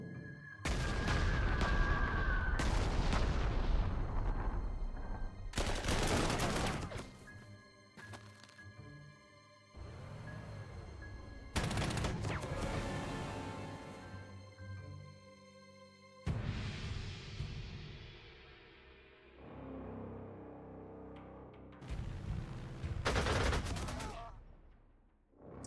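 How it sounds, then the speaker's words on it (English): Carpet-bombing explosions in the Panzer Corps 2 strategy game, a series of loud booming blasts and crackling bursts in waves, each decaying with long rumbling tails. "Let's carpet bomb those guys."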